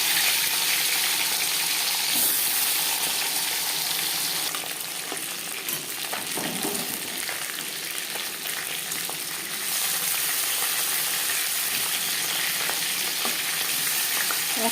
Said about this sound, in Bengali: এবার দিয়ে দেব ম্যারিনেট করে রাখা মাছ